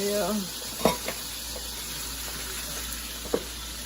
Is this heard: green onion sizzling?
yes